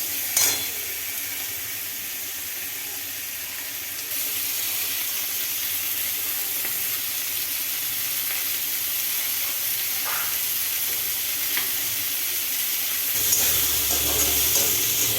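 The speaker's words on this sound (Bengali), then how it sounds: "সবজিগুলো আমার ভাজা হয়ে এসেছে" Continuous sizzling and hissing of vegetables frying in a pan, with occasional stirring scrapes and a louder burst near the end.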